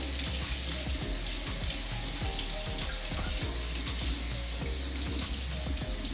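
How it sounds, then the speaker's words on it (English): Cooked noodles rinsed under a running kitchen faucet: a steady, close rush of water splashing into a sink, loud and continuous without a break, with small splatters and clinks over the flow. "we're going to rinse these noodles a bit."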